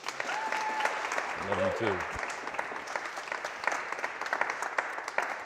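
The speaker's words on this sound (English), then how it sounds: "Big round of applause for my bride." An audience at a motivational seminar claps in a sustained, dense round of applause that carries on steadily throughout, while someone speaks briefly over it near the start.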